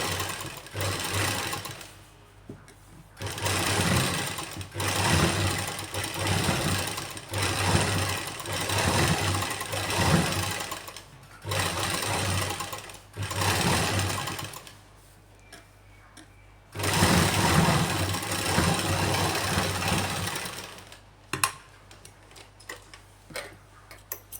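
A sewing machine runs in bursts of steady rapid stitching while a lined salwar hem is sewn, stopping briefly between runs with short pauses, close and loud throughout.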